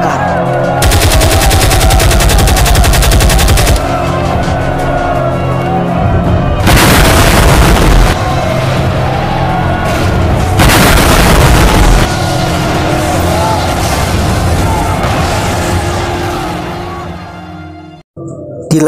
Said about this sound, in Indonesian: tertembak dan mobilnya pun meledak,